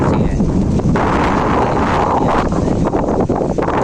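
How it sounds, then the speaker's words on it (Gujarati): Wind blowing outdoors in a rural field, a loud continuous roar and buffeting against the microphone, filling the whole stretch with gusty rumble. "મસ્તીનો પવન આવે છે"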